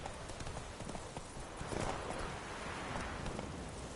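Roach the horse gallops in the Witcher 3 game, with a fast, rhythmic clatter of hooves close by over a rushing, noisy background.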